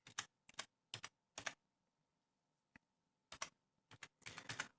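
Short bursts of typing on a computer keyboard while entering a command at a command prompt, several quick clusters of key clicks separated by pauses, close and clear with no talking.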